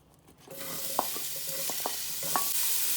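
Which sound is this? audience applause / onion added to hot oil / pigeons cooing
onion added to hot oil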